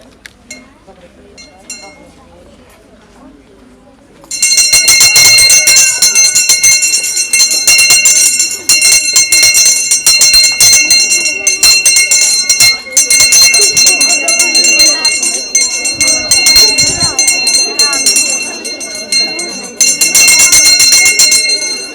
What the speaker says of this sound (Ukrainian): дати перший дзвінок у 24-25 навчальному році